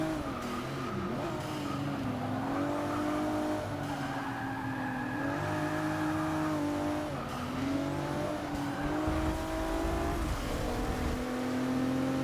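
A Ford Mustang race car in Forza Motorsport 6 roars steadily through a race, its engine note rising and dipping with gear changes and brief tire squeals under hard braking, loud and continuous with no talk.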